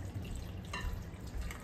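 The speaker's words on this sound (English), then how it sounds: "So I'm gonna do one more rinse" Water drips and trickles in a sink while Irish moss (sea moss) is rinsed, a few soft close drops over low background noise.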